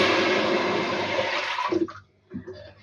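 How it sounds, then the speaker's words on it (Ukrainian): One litre of water pours steadily into a saucepan with a full, splashing rush, then tapers off into a few drips and small sloshes. "на одну літру водички я вливаю її в кастрюлю"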